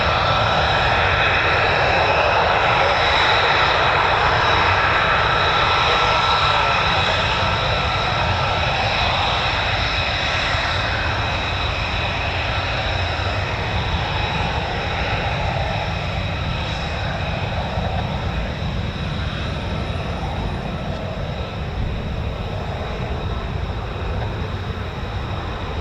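An F-35B stealth fighter's jet engine roars loud and sustained at an RAF air station, a broad steady rumble that stays strong throughout, with no talk.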